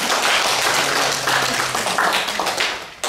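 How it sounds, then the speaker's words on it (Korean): A church congregation applauding during a Sunday service, dense sustained clapping from many hands that fades out near the end, with a brief voice underneath. "우리 서로서로를 위해서 또 한 번 축복하며 격려하며 감사하는 박수를 서로서로에게"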